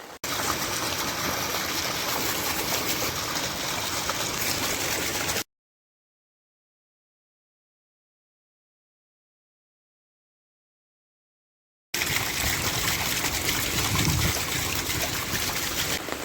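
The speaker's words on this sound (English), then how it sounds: "the creek is looking like at the back of the property. It is definitely flowing." Creek water flowing and trickling steadily after Cyclone Jasper, a constant rushing wash that cuts out abruptly into total silence before resuming just as full.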